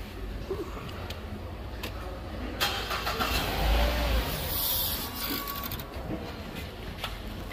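A four-cylinder Mazda engine cranks with a whirring starter, then catches and runs. The engine is at moderate distance, with clicks and mechanical noise around it and no talk.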